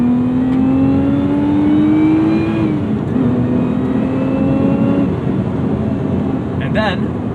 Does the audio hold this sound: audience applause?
no